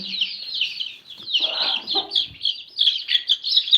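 Young chicks cheep in a rapid, continuous stream of high peeping calls, close and fairly loud, with a brief murmur of other sound in the middle.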